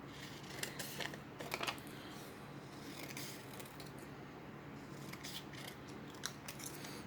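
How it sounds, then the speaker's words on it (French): Scissors cutting paper into strips: faint, close snips and crisp rustles that come in small irregular clusters against a quiet background. "Je vais découper en bande, comme ça."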